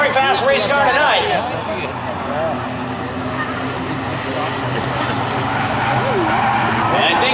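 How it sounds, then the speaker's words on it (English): Race cars roar at speed around an oval track at night, a loud continuous engine drone with tire noise, under excited commentator talk. "Very fast race car tonight."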